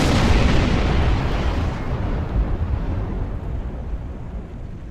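Mega plasma torpedo attack from a Star Trek Online warbird: one sustained heavy explosive roar that starts loud, rumbles deep and fades slowly over several seconds, with no voices.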